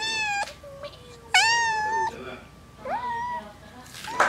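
A cat meows repeatedly, with several drawn-out, rising cries close to the microphone, while a person talks softly in between.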